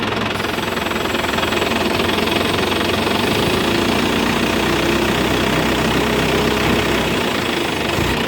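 A pickup truck engine idles steadily close by, a rough, knocking diesel-like chug that continues without a break before cutting off at the end.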